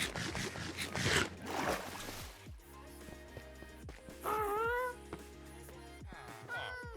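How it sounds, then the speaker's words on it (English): A cat in a Minecraft-style building game gives a couple of short, clear meows over soft background game sounds, with other thumps and rustles before them. "The cat."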